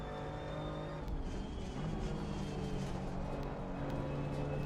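BMW GT race car in the sim racing game Assetto Corsa Competizione, a steady engine drone with layered harmonic whine, held at constant revs throughout with no talk.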